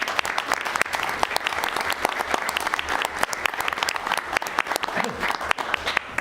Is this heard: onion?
no